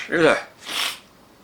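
A single sharp sneeze bursts out up close, followed by a breathy, hissing exhale.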